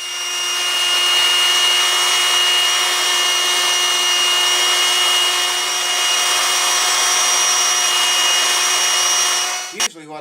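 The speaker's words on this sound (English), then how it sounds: "I'll put it on a sander or get a piece of sandpaper out here and give it this number." A power sander works a saddle from a Washburn Timbrewood WD 48S acoustic guitar, a loud, steady, humming motor whine with a constant grinding rasp that cuts off with a short clunk near the end.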